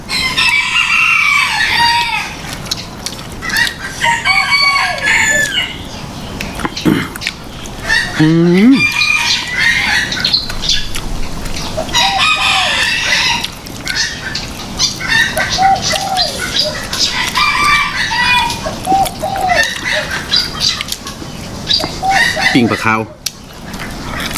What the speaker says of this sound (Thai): เสียงนกเสียงไก่อะไรโอ้ยเนาะพี่น้องเอ้ย